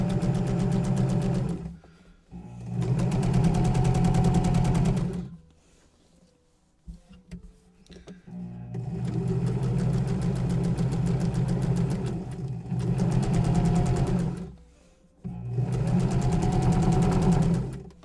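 A sewing machine stitches an apron dress bodice seam in three long bursts of fast, steady whirring, pausing in between with quiet handling noises.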